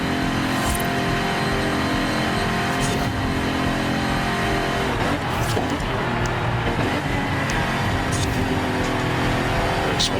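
A DeLorean races in Forza Horizon 5, its engine droning steadily and loudly, rising and falling with revs and gear changes, with occasional tire or contact noises over the sustained car sound.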